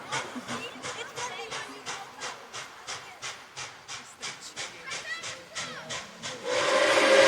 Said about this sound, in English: Oh, listen to that Nathan 6 chime.